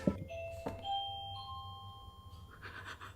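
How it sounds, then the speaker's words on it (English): Two bright doorbell chimes ring out near the start, their tones lingering and fading over a quiet room background. "I'm gonna answer the doorbell."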